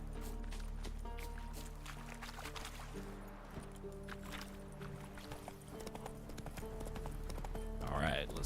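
Roach, a horse in a video game, trots with steady rhythmic clip-clop hoofbeats over a low background hum, moderately close, and a voice speaks near the end.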